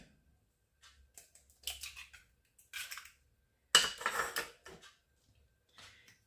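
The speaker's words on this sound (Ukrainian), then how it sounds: "Розбиваємо туди яйце." Quiet kitchen clatter: a few sharp taps and cracks of an egg against a bowl, followed by light clinks and scraping, close and fairly soft.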